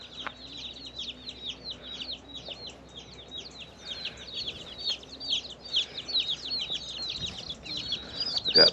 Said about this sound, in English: 10 Rhode Island Reds. This is a Rhode Island Red.